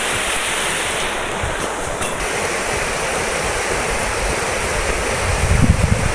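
The Marin River rushes beneath the Jakhani Bridge in a loud, constant roar of flowing water, with some wind buffeting the microphone and no voices.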